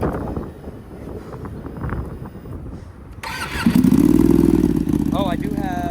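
A GP-style motorcycle engine cold-starts partway through, catching with a loud rising rumble that settles into a steady idle after wind-buffeted outdoor background noise.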